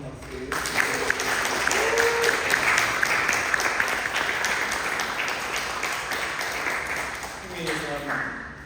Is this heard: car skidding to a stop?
no